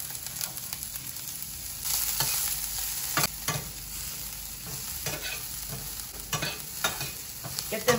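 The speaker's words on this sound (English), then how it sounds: "the pan's nice and hot, so I'm gonna put in the shallots" Shallots sizzle and fry in hot olive oil in a pan, with steady crackling and occasional stirring scrapes over about eight seconds, close and moderately loud, no talking.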